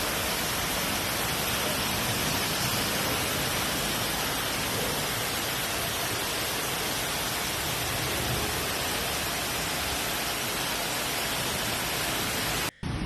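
Heavy, intense rain during flooding in Barcelona, a dense continuous roar of downpour that stays loud and steady throughout, with no voices.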